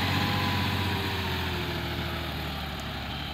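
A four-wheel-drive 56B CRDI diesel tractor idles up close in a village, holding a steady, loud low engine drone with a constant hum throughout.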